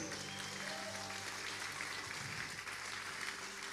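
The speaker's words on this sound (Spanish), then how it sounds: "Dele fuerte aplauso a Jesús" A church congregation claps steadily for a young man named Jesus during a service, a dense, even burst of applause filling the room, faintly heard at a distance.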